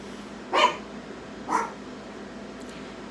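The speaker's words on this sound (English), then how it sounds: "Sorry about the doggy barking." A dog barks twice about a second apart, then gives a faint third yip, all somewhat distant and indoors.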